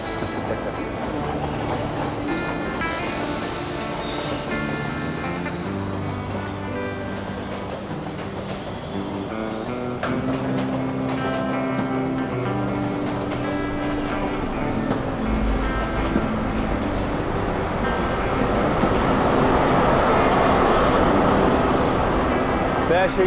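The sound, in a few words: East Coast train departing station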